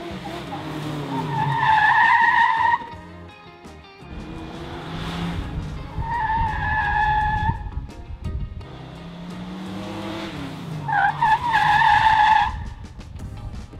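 A Ford Mustang braking hard during brake testing, its tires screeching and skidding in three separate squealing bursts over rumbling engine and road noise.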